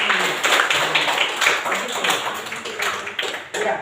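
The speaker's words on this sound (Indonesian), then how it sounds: "tepuk tangan dulu untuk teman ini" A classroom of students claps for a classmate, brisk scattered clapping that is fairly close and loud, with voices speaking over the applause.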